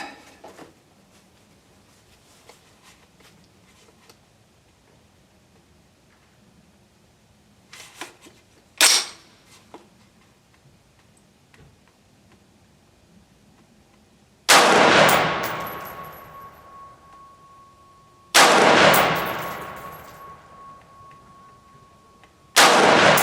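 A Retro 601 rifle firing 5.56 55 grain ammunition at a target, with two very loud, close shots whose echoes trail off, plus a fainter crack earlier and quiet outdoor background between.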